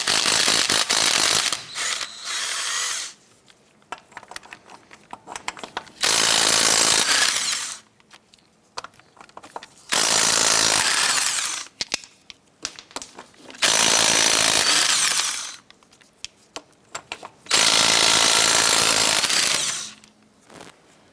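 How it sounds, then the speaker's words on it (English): Lug nuts come off a 1994-2004 Chevy S10 front wheel under a 19mm socket, the impact gun firing in five loud, sustained bursts, each several seconds long, with quiet gaps and faint clicks between. "Using a 19mm socket, go ahead, loosen and remove the lug nuts"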